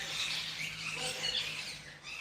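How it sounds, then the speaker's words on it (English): Birds call near the coast outdoors, with scattered high chirps and squawks at a moderate distance over a low steady background hiss. "Okay, birds are having a bit of fun over there."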